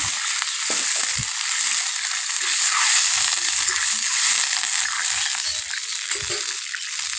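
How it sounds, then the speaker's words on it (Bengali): Water is poured into hot spice tempering in a pan, setting off a loud, steady hiss of sizzling that holds close and constant the whole time, with a few soft knocks underneath. "ফোড়নটা আমার হয়ে এসছে, আমি জল দিয়ে দেবো।"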